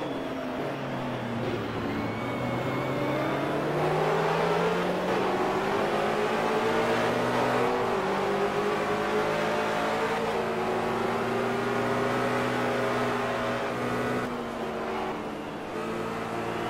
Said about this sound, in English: I thought I could hear a different engine sound, not that far behind